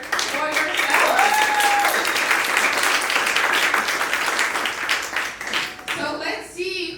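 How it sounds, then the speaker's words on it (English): A conference audience in Bucharest claps loudly, dense sustained applause that thins toward the end, with a voice briefly heard over it. "So give yourselves a big round of applause because you are here for yourselves."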